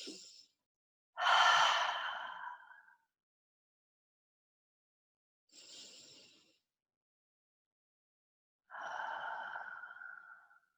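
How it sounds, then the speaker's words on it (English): Slow, deep breaths taken during a guided therapy breathing exercise: a short breath, then a long drawn inhale and exhale, a faint quieter breath, and another long sighing breath, close and alone with silence between. "you may join me in taking a few deep breaths up to the collarbone"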